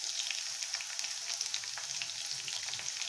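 Chopped garlic and green chili frying in a pan for chili paneer, giving a steady, quiet, even sizzle with fine crackles and no talking.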